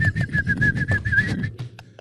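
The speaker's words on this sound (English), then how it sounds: "I'm whistling." A person whistles a steady, high tune in a run of short repeated notes, loud and close, over low background chatter, then stops abruptly near the end.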